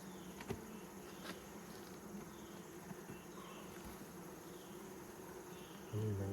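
Bees drone in a dense, continuous buzz during an October beehive inspection, close and steady with individual insects passing near, and no talking.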